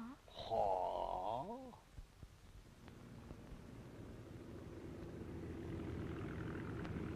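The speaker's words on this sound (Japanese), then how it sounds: "あ、飛行機、飛行機" A propeller airplane from 1936 drones overhead, its engine hum rising steadily in the latter part of the scene, after an earlier burst of loud sound at the start.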